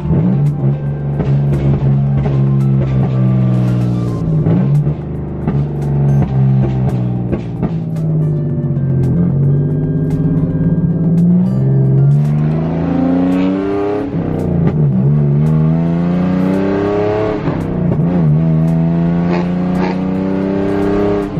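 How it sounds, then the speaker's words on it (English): A car engine warms up from a cold start, holding a loud, steady idle with a droning exhaust tone that swells and dips in pitch several times over about twenty seconds, with no talking. "As the car warms up, or at least tries to"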